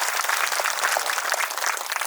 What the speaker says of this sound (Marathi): परत एकदा जोरदार टाळ्या वाजवा त्यांच्यासाठी